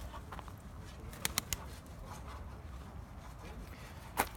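Pigeons cooing in a loft where smoky and grey smoky pigeons are kept, with soft low coos and a few sharp flutters or clicks scattered over a quiet background, one louder burst near the end.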